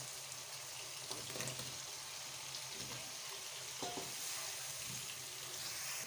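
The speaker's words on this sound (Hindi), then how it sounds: "और इसको 2-3 मिनट के लिए अच्छे से भून लेंगे।" Sliced potatoes frying in masala in a pan for an aloo baingan sabzi give off a steady, dense sizzle throughout, with a few soft clatters of stirring over the constant hiss.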